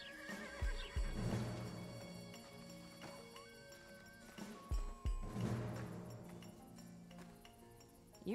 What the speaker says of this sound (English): The horses, Sal.